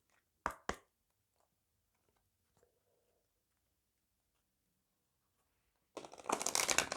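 Angel oracle cards are handled for a reading: two sharp taps early on, a long quiet gap, then a brisk riffling shuffle close by at the end.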